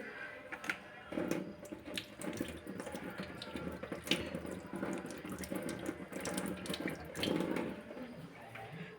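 A tap runs steadily with water splashing into a sink as hands are washed, the sound shifting as hands move under the stream, with faint clinks in the background.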